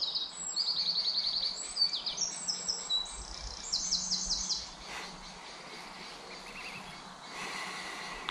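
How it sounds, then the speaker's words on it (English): Birds sing in an ancient English oak woodland, bright chirps and trilled phrases in bursts near and far over a quiet background, with no talking. "I don't like talking when the birds are singing."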